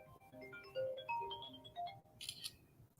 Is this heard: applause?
no